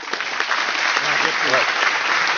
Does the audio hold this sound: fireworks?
no